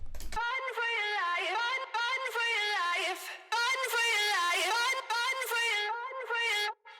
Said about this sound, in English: the vocal chop is filtering up during this section as well